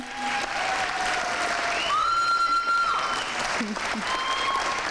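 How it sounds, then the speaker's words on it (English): An audience applauding the seniors at a university honors convocation, sustained clapping from a large crowd with a few whistles or tonal cheers rising above it. "Please give our seniors a hand."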